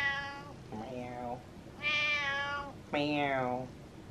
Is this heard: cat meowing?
yes